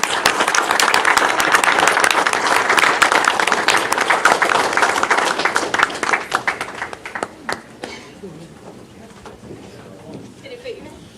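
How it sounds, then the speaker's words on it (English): Applause from the audience at a city commission regular meeting, full and steady for several seconds before thinning to scattered claps and fading into quiet room tone with faint voices. "Can we have another round of applause for the"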